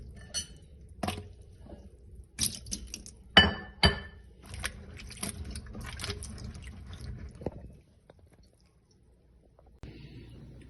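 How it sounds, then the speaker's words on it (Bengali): Fresh okra being rinsed in water in a bowl for frying: scattered clinks, knocks and small splashes, close and moderately loud, in uneven bursts that stop after about eight seconds and leave near quiet. "ফার্স্ট ভেন্ডিগুলা ধুইয়া নিমু"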